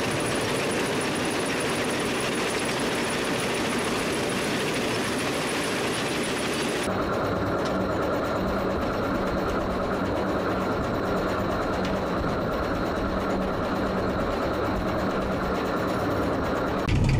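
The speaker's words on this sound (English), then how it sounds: "This section is called the TC1000 Cedar Rapids Cone Circuit Screen Plant." A Cedar Rapids TC1000 cone crusher with an attached 8x20-foot three-deck screen plant runs continuously on site, giving a loud, steady mechanical drone and rattle that shifts tone partway through and carries on without pause.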